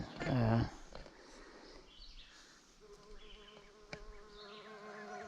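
A leafcutter bee buzzes loudly and close inside a bee nesting box for under a second, followed by quieter background sound with a soft voice.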